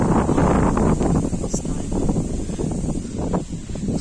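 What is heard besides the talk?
strong wind whistling into the microphone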